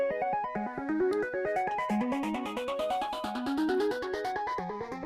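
An ARP 2600 synthesizer plays a rapid rising and falling sequence of bright, buzzy notes while a noise layer is brought in by aftertouch, steady and moderately quiet with no speech.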